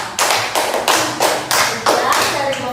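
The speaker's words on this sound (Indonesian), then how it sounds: "tepuk tangan untuk kelompok 3" A group of people in an elementary school class claps in steady, rhythmic bursts, loud and close, to applaud a group that has just finished presenting.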